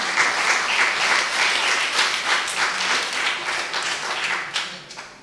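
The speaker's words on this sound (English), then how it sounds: "That is something to applaud for." Applause at a primary school end-of-year ceremony, a broad wash of clapping from a large audience, loud and steady, holding for several seconds before tapering slightly at the end.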